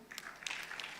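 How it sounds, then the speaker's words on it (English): Brief burst of audience applause at a money and finance summit, a second of scattered clapping under a faint murmur of voices. "Please clap"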